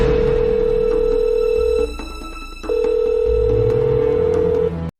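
A telephone rings in two long electronic tones split by a short pause, loud and near, with a low hum underneath and no talking.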